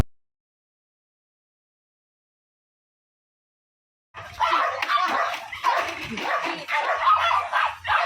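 After several seconds of silence, a dog barks and yelps excitedly in repeated bursts, fairly close and loud.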